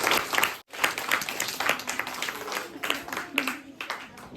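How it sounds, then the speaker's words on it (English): A crowd claps for prize winners at an environment day quiz competition, producing loud, continuous applause with a brief dip near the start and a voice talking over it. "Now please give a big round of applause to them"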